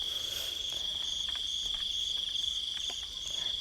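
Crickets chirp in a dry rice field during the dry season, giving a steady, loud, high-pitched trill that runs unbroken throughout, with faint rustling underneath and no speech.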